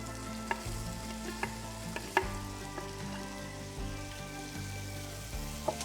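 Butter sizzles and fries in a pan for a cheesy low-carb comfort dish, a close, steady crackle with occasional sharper pops and stirring scrapes, no voices.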